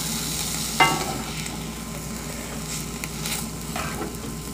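Steady soft sizzling of mushrooms frying in a pan, with a brief clatter near the start and light stirring scrapes throughout.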